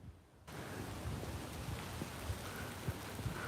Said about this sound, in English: Absolutely bucketing down.